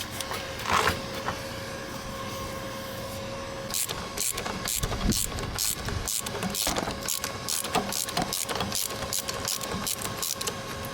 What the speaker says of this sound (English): See the tire spinning?